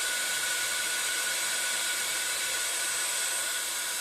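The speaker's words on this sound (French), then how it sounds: "je fais toujours chauffer mon gun un petit peu avant." Embossing heat gun blowing hot air over a chipboard shape, a steady loud hissing whoosh with a faint whine, continuous and close, no speech.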